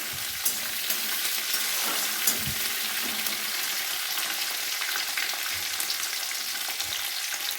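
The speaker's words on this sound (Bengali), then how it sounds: "তাই আমি একটু ভাজা ভাজা করে নেবো টমেটোগুলো" Tomatoes frying in a pan for a South Indian sambar masala dal, a steady close sizzle with occasional stirring scrapes and small pops, no talking.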